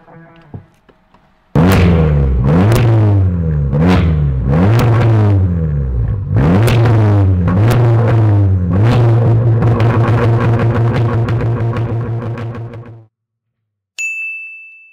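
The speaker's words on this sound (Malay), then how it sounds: "Downpipe, front pipe RV6. Full custom exhaust." A car fitted with an RV6 downpipe and front pipe and a full custom exhaust revs hard several times in sharp rising bursts, then holds a loud, steady drone up close before cutting off.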